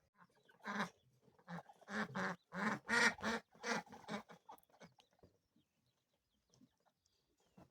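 Six young ducks in a small flock being introduced to an older duck flock give a quick run of close, overlapping quacking calls for several seconds before falling quiet.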